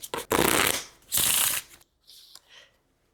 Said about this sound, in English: Shall we just get into our first card pull and see how long we're going to be reading for?